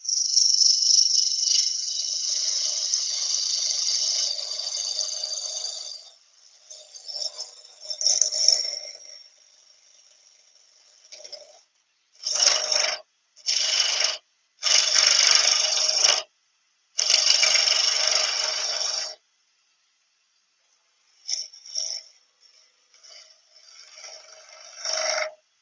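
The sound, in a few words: gouge turning a wooden fruit on a lathe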